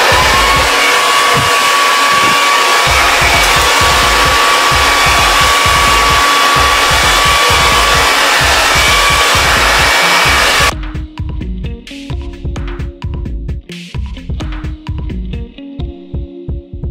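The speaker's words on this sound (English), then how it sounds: "That's literally all I'm gonna do with the blow dryer" A blow dryer on its high setting at medium heat, drying hair after a humidity-ruined silk press, roars loudly and steadily with a pulsing throb for about eleven seconds. Then it cuts off, leaving quieter rhythmic handling sounds.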